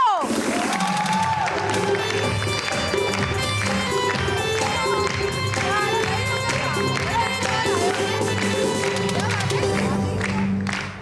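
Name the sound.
studio audience applause and cheering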